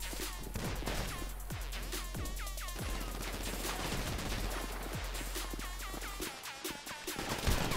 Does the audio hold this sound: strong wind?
no